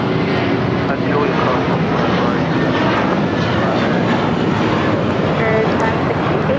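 A Spirit Airlines Airbus A321 taking off from LAX toward Chicago O'Hare, a loud steady broadband jet roar that holds constant throughout, close and dominant, with no voice audible over it.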